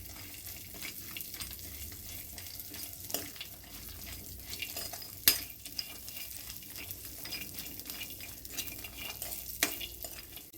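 Dry fruits are fried until crisp in a pan, giving a faint, steady sizzle broken by regular scraping and stirring strokes of a spoon at close range, with no voices.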